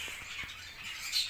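Caged budgerigars squawk and chirp in a high, scratchy chatter, with a few soft taps underneath.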